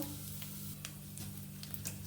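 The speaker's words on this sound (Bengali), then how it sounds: "এগুলো দিয়ে দিচ্ছি ফোড়নটা ভালো করে ভেজে নেব" Whole spices (cardamom, cloves and half a spoon of cumin) tempering in hot oil for a vegetarian banana-flower dish, a faint, close sizzle with small pops and a low steady hum behind it.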